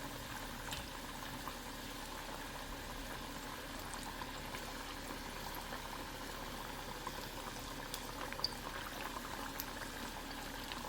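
Potatoes for French fries fry in oil with a steady, close sizzle and crackle, a continuous hissing bubbling that holds evenly throughout with no voices.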